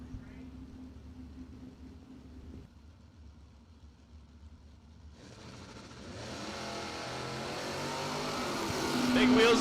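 A drag race car launches from the start line at a Coal Rush event, big wheels up, engine climbing from a quiet idle to a loud, building roar that swells toward the end amid outdoor track ambience.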